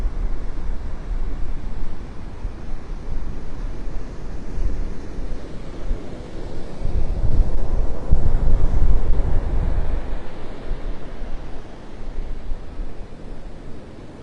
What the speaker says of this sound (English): That wind is definitely shifting now, starting to come out of the south.